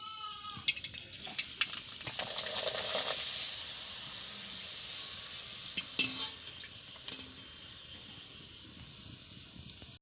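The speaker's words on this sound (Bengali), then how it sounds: "চলো পাঁপড় ভাজি" Papad frying in hot oil in a cooking pot outdoors gives a steady, soft crackling sizzle with occasional sharper pops and clinks throughout.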